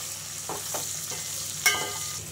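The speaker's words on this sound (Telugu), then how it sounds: "మునక్కాయ ఇవన్నిటిని బాగా కొంచెం కలపాలి." Drumsticks stirred into golden-brown fried onions in a pan for sambar, a steady close sizzle broken by a few soft scraping stirs and one sharper clink of the spoon against the pan.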